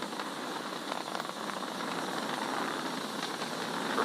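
SpaceX Falcon 9 rocket engines during launch, a dense continuous rumbling roar with crackling texture, steady and distant-sounding, without voices.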